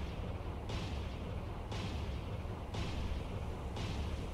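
Warship main guns firing in the naval video game Cold Waters, four evenly spaced heavy booms roughly a second apart over a steady low rumble, distant and muffled.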